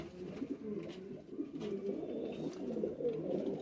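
Teddy breed pigeons coo in a steady, overlapping murmur, several low throaty calls blending into a continuous rolling drone nearby, with no talking.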